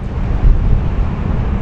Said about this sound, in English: Solid 30-mile-an-hour gusts, it seems like.